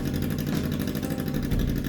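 A Kawasaki Ninja 250 motorcycle engine mounted in a homemade go-cart idles steadily, a loud, close, even putter with a rapid pulsing rhythm, no talk.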